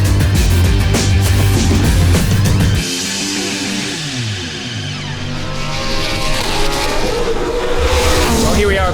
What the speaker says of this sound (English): Here we are at Bathurst, about to go out for our first run in the Brabham BT62